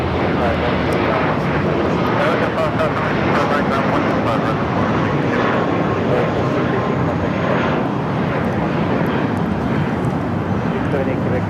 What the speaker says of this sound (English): It's a 16-year-old A330-200. Should be a south side at takeoff.